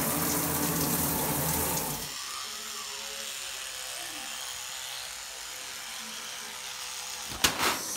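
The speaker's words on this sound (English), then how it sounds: "Taking a quick shower." Water from a shower runs steadily as a continuous hiss, loud at first and then settling to a softer, steady spray, with a brief clatter near the end.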